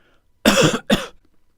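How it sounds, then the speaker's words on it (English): Two sharp coughs in quick succession, the first longer and the second a short follow-up, loud and close against near silence. "use trimming to remove this cough from the recording"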